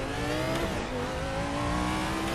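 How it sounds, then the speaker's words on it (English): A sim racing car engine revs loud and close, a dense continuous roar with slight pitch swells and a hint of tire noise, running throughout without any talk. "Oh, nice engine sound."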